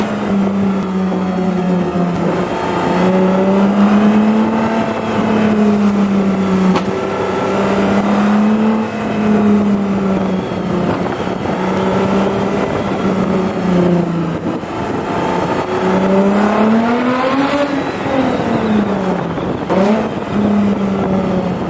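A Lexus IS350 with a cheap aftermarket exhaust gives a deep, continuous droning exhaust note that rises and falls through several moderate revs, loud and close, with no talking.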